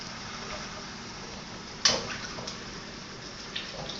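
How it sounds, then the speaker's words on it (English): Cold water is poured into a bowl of stewing carne guisada meat and seasoning, heard as a brief soft splash followed by faint trickling in a quiet room. "I'm going to add a little cold water to get some more of this juicy goodness"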